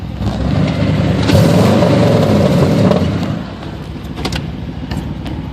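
A 1987 Pontiac Firebird GTA engine idles steadily up close, a continuous low rumble that swells slightly in the middle, then settles, with a few faint clicks near the end.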